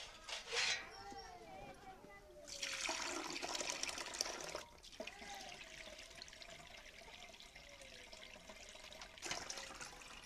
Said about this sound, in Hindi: सूती कपड़ा बर्तन पे रख के